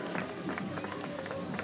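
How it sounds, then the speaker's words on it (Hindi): An audience claps steadily through a ceremony honoring a man for 28 years of work. The dense, continuous applause comes from a crowd, with a voice speaking over it. "सब बहनें तालियां बजाएं"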